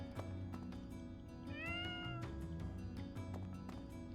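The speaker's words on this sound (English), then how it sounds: "I heard a cat. Where's the cat?" A single drawn-out cat meow sounds in the video game Fire Emblem: Three Houses, clear and mid-distance over a steady low musical and ambient backdrop.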